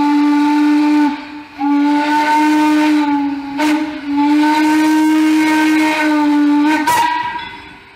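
A multi-chime steam locomotive whistle on Frisco 504, a Silver Dollar Line engine, sounds in three loud sustained blasts, each ending in a sharp break, with steady hiss running beneath and no talk.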